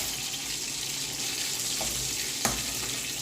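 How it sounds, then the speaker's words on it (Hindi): Chicken nuggets fry in hot oil, a constant close hiss with a single sharp clink near the end, no speech. "मैंने नगट्स फ्राई कर रही हूँ"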